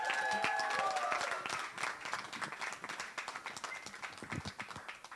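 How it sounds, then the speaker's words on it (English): Wedding guests give the bride and groom a big round of applause, a dense, steady burst of clapping that stays loud for a few seconds before thinning into scattered claps as talk mixes in. "give the bride and the groom just a big round of applause"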